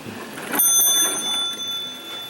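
An old telephone's mechanical bell rings inside a station museum, a sharp bright metallic ring that starts abruptly and keeps jangling with a slowly fading shimmer, close and alone.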